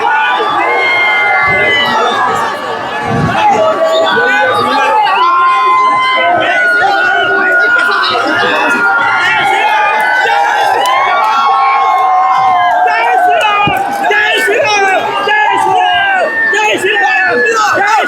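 A large crowd at a village palanquin festival for the goddess Raibadevi cheers and whoops loudly and continuously, a dense outdoor roar with shouts and calls layered over it.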